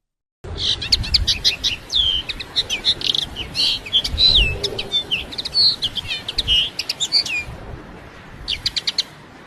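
Several birds chirp and tweet in quick, bright bursts, fairly close, with a short pause before a final flurry of calls.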